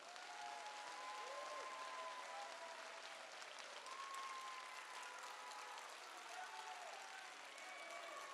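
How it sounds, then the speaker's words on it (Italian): Applause from an outdoor crowd at the Cavalcata Sarda 2023 parade in Sardinia, a steady broadband patter lasting throughout, with voices and some whistling or tonal sounds mixed in over it. "Fategli l'applauso più bello che c'è"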